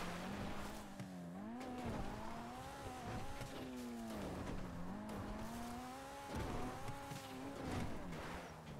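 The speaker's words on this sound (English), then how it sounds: "This car is not made for off-roading." In Grand Theft Auto Online, a car drives off-road with a steady droning engine note that rises and falls as it revs and slows, with bumps and tire noise, loud and continuous throughout.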